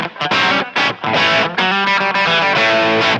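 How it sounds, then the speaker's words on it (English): Loud, heavily overdriven electric guitar through a cranked Fender Deluxe Reverb tube amp with thick distortion, chords and sustained notes ringing with brief gaps, no talking. "this is a really cranked up deluxe reverb"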